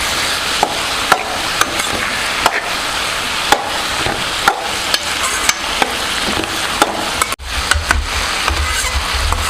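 Garlic fries for a fish curry while a utensil scrapes and knocks against the pan in repeated sharp taps over a steady, loud sizzle. One heavier thud comes near the end. No one speaks.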